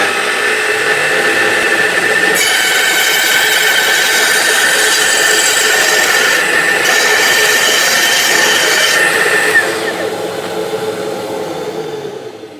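A Festool Kapex mitre saw cuts through 22mm copper pipe, a loud steady motor whine with a harsh metallic screech layered over it through the cut, then winding down at the end, with no talking.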